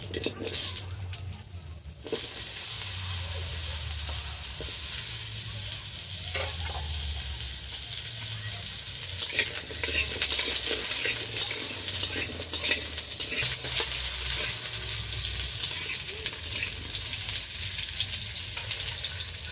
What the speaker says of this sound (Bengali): পেঁপেটা একটু হালকা করে ভেজে নেব।